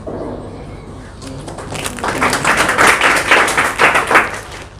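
Students applaud at a coaching institute results ceremony, a brief burst of hand clapping building up loud and close after a quieter murmur, with voices around.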